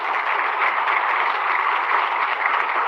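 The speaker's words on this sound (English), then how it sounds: "So please, if everybody can give a round of applause for my chief, Chief Michael Coleman." Steady round of applause from the audience at a police department swearing-in and promotional ceremony, dense continuous clapping held at even loudness throughout with no speech over it.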